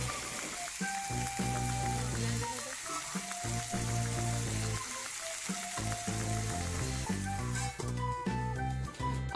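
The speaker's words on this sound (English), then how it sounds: "you should stir them very properly, because these taro stems are very easily breakable" Taro stems sizzle and crackle steadily as they are stirred in a frying pan, a soft frying hiss running beneath louder background music throughout.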